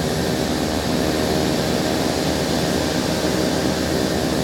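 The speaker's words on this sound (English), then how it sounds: "God, this plane sounds amazing, guys." Steady, loud whine and rumble of the Blacksquare Turbine Duke's turboprop engine idling on the ground in a flight simulator, a continuous broadband roar with no talk over it.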